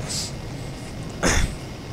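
A single harsh cough from a person with a bad cough bursts out close by, preceded by a faint breathy noise, with steady low background hum.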